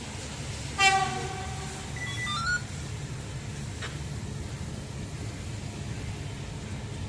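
A locomotive horn blasts in a long, loud call, then a second shorter tone, over a steady rumble of a train rolling past nearby at Selçuk station in Turkey.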